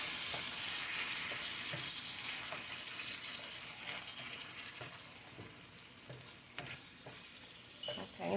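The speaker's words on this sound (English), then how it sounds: "Alright, now we're going to get it stirred up here." Smoked sausage and ground beef sizzle loudly in a pan while being stirred, a dense steady hiss with scraping strokes that slowly eases off, no talking.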